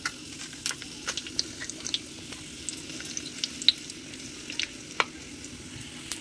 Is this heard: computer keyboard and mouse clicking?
no